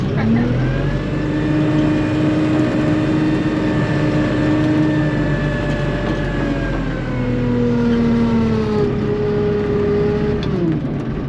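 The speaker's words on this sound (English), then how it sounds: "the hydraulics, loader noises and everything are really loud in this tractor." A loud tractor engine drones and whines close up, its pitch rising and falling as the loader hydraulics strain, steady throughout.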